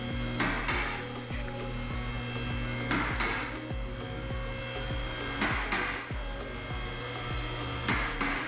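An Audi Q7 engine running after a cracked-valve repair, a steady droning idle with a rhythmic ticking pulse and periodic louder surges repeating about every three seconds, close and continuous.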